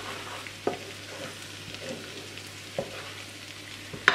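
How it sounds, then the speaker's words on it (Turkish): Dried mint sizzles softly as it is sautéed in a pan for haydari, a quiet steady frying hiss with a few sharp clicks and taps from the stirring utensil and no voices. "Şimdi yaklaşık 1 tatlı kaşığı kadar nane ilave ediyorum. Kuru nane. Çok az onu da kavuruyorum."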